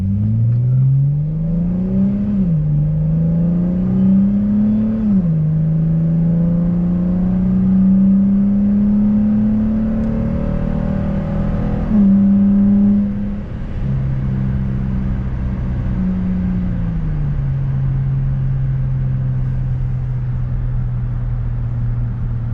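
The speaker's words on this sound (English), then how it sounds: "We'll do a nice acceleration here. We are going uphill, but we'll see how quick we can get." A Dodge Challenger in sport mode accelerates hard uphill from inside the cabin, its engine drone climbing in pitch through several gear changes with brief dips between them, then settling to a steady loud cruise over road rumble.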